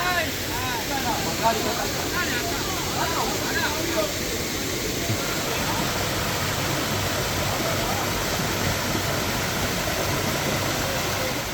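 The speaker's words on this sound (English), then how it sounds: "The waterfall is one of the tallest in Georgia, with the freefall drop of around 70 meters." A tall waterfall near Kutaisi, Georgia, with a roughly 70-metre free-fall drop, gives off a steady, broad roar, with faint voices mixed in.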